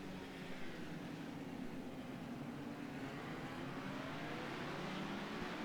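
Race cars accelerate off the start at Laguna Seca in a sports car racing video game, their engines merging into a dense, steady roar that holds without a break.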